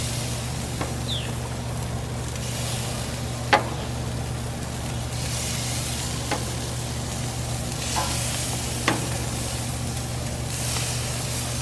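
Salmon laid skin side up sizzles on an oiled grill with a steady low frying hiss. A few sharp clicks and taps break in now and then, under a constant background hum, with no voices.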